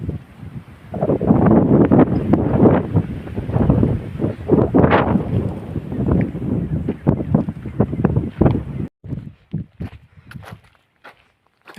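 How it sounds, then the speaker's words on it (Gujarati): Strong wind gusts across freshly ploughed farm fields, roaring and buffeting loudly right at the microphone in uneven bursts before easing into sporadic thumps near the end. "કેવો પવન ચાલે આમ જો."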